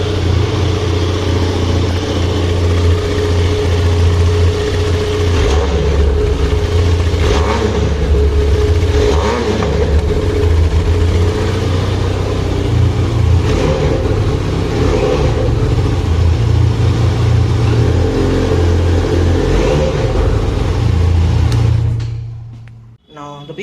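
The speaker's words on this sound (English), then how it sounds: "Exhaust note of Benelli" A 2021 Benelli TRK 502 500 cc motorcycle runs with its exhaust note steady and loud throughout, with a few rises as the engine is revved, recorded close up and cut off abruptly at the end.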